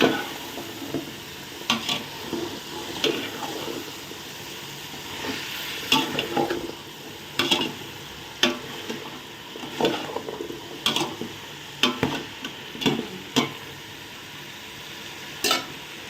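Chopped vegetables sauté in a pan with a steady sizzle and irregular scraping clacks of a spatula stirring, close and fairly quiet, with no voices.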